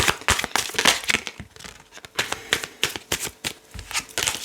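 A deck of Normand oracle cards being cut and shuffled, with a quick run of crisp card slaps and riffles, close and fairly loud with brief pauses between bursts.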